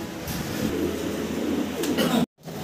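A pair of fancy modern shatil pigeons cooing softly, low murmuring calls repeating close by over a steady background, cut briefly by a moment of silence near the end.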